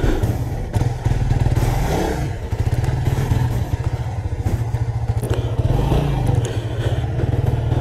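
Suzuki GSX-R150 motorcycle on the move, its engine droning steadily with a strong low rumble and noticeable vibration, loud and close throughout with occasional clatter, no voices.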